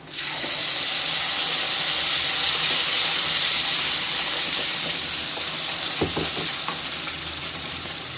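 Ground masala paste for peas paneer masala spattering in a hot pan, a loud steady close hiss and sizzle with a few sharp stirring knocks near the end.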